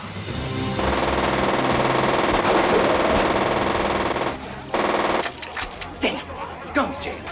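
A movie machine gun fires a sustained, loud rapid burst for several seconds, then after a brief gap a few sharper, scattered shots and clatters follow.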